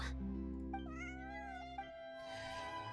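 A cat in the Genshin Impact video game meows in one long, wavering cry, close and clear over steady game music.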